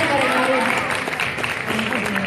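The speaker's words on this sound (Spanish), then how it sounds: "Un aplauso para él, por favor." A crowd applauds the winner of an anime song contest at an anime expo in Santiago del Estero, Argentina; brief, loud clapping runs under tonal voices or sound from the stage throughout.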